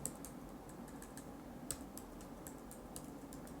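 Close computer keyboard typing NumPy code, a quick even patter of light key clicks at a soft level with no talk.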